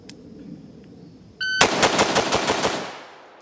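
Rifle shots fired at a target in a cadence drill on a shooting range, roughly nine sharp, loud reports in a steady, evenly spaced rhythm after a brief electronic start beep.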